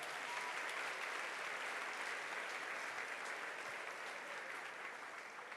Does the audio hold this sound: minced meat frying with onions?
no